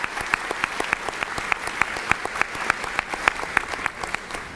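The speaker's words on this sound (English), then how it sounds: "Another round of applause for our elementary students and MMA students." An audience at a school board Gold Key awards ceremony claps for honored students, sustained applause from many hands with a steady, even texture.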